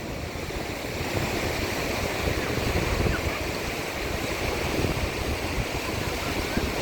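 Fast ocean waves breaking on Vizag beach, India, form a loud, continuous broadband roar and wash that swells slightly in the middle, with wind buffeting the microphone throughout.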